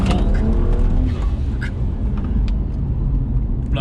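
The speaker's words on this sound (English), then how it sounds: "Blow valve sounds good." BMW E82 135i with full bolt-ons, a loud close engine roar from inside the car with brief hissing bursts from the blow-off valve over steady road rumble.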